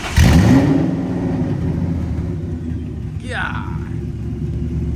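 A procharged Ford Cobra with open manifolds, long tube headers and an H-pipe gives a quick loud rev that rises and settles into a deep, rumbling idle, with a brief second blip and a voice speaking over it.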